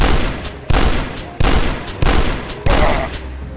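Shotgun fire in a first-person shooter, five loud heavy blasts spaced roughly every two-thirds of a second, each ringing out into a noisy decay, close and dominant.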